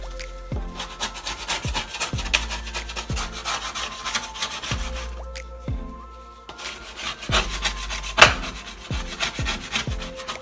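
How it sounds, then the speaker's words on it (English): A scraper working baked-on grime off a stove top in steady, repeated rasping strokes, close and even in rhythm throughout, with no talking. "So we're gonna scrape as much as we can"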